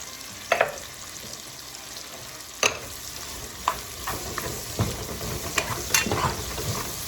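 Steady frying sizzle of green peppers in a pan, broken by several sharp clinks and scrapes of a utensil stirring against the pan. No one speaks.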